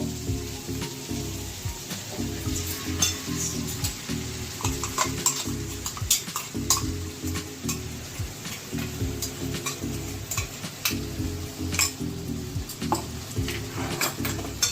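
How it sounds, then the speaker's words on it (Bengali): Poppy seed paste being stirred into snake gourd and potatoes frying in a pan, with steady sizzling and repeated scraping strokes of a spatula against the pan, close and continuous, no talking. "এবারে এই যে পোস্ত পেস্টটা দেব।"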